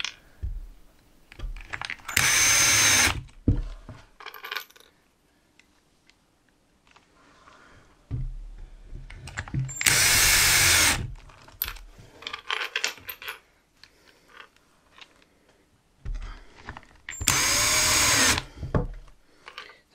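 A power drill drives square head screws into wood during a storage build, in three loud whirring bursts separated by quieter pauses with faint handling noises.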